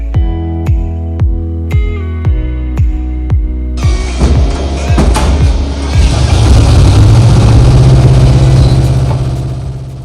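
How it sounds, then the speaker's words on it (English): Small engine of a tourist train at Moonta Mines, chugging with a lawnmower-like putter: steady rhythmic pulses at first, then a louder, denser running roar building and holding near the end. "that engine sounded very much like a lawnmower"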